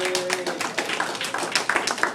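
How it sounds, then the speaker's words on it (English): Applause from a nightclub lounge audience, a dense patter of many hands clapping steadily at moderate distance, with a few sharper claps standing out. "So give yourself a round of applause for coming out tonight"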